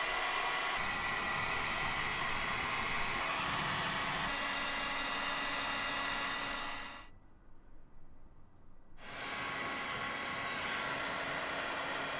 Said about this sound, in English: He used compressed air here to push and spread around Brunox behind the metal.